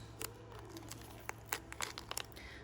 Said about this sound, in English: I have an old blade in here, which is why it's leaving that.